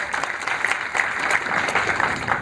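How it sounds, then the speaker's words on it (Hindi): An audience at a gathering at Gayatri Tapobhumi in Mathura breaks into loud, brisk clapping, many hands beating in a fairly even rhythm, close and sustained for the whole stretch. "एक बार जोर से उनके ताली बजा दिया जाए सभी लोग"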